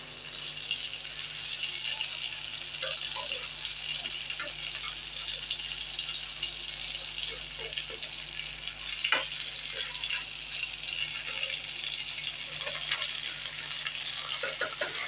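Eggplant pieces sizzle and crackle steadily as they are stir-fried in an open pan, with occasional scrapes and stirring clinks under the continuous frying hiss.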